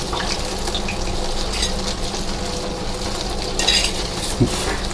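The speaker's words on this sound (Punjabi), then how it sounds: "ਅਸੀਂ ਕਰ ਰਹੇ ਹਾਂ ਤੇਲ 'ਚ ਫਰਾਈ" Aloo bread rolls fry in mustard oil in a pan, giving a steady close bubbling sizzle throughout, with a few brief clinks and scrapes near the end and no one speaking.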